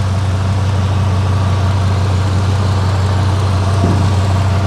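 The engine of a 1999–2006 Chevrolet Silverado pickup idles steadily, a loud, constant low rumble with no revving and no voices.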